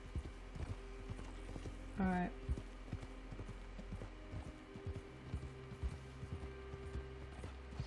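Horse hooves clip-clopping in Red Dead Redemption 2, a steady patter of steps with faint mechanical clicks, heard under a man's brief speech.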